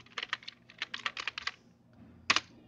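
Keys clack on a keyboard while someone types Punjabi text into a Google search: a quick run of irregular clicks, a pause, then a final double tap, close and fairly quiet.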